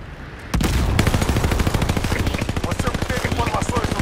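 Rapid automatic gunfire from a Call of Duty: Modern Warfare match, opening with a sharp shot and then a loud, dense stream of bursts that runs without pause under occasional voice chat.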